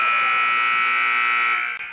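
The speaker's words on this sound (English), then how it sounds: "With that roll and the buzzer sounding" Loud, sustained electronic buzzer at a boys' high school basketball game marking the end of the third quarter, holding steady for about a second and a half before cutting off, with faint gym noise beneath.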